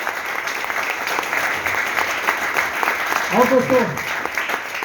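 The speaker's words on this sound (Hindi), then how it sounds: "ये इसके लिए जोरदार तालियां मैनेजमेंट के लिए।" An office audience claps for management at a branch-office celebration, the applause running steadily under a voice speaking over it.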